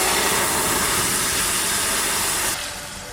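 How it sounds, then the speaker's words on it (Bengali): Vegetables hitting a hot pan with dried chillies and cumin already fried in oil, a loud, dense, steady sizzle hissing close up for nearly three seconds before dropping off slightly. "তরকারিটা দিয়ে দিচ্ছি।"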